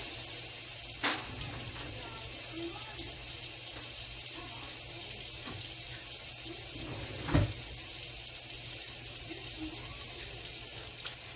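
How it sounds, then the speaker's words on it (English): A kitchen sink tap runs steadily throughout while a pineapple is rinsed under it, with occasional knocks and bumps of fruit against the sink standing out over the constant close rush of water. "I'm just going to take this to the sink and do my rinsing"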